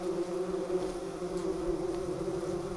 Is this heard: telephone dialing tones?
no